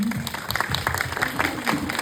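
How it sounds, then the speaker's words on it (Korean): Audience applause at a film festival in Bucheon, a steady wash of clapping with a voice talking over it throughout. "계속 지지하신다 그러면 박수 한번 부탁드리겠습니다"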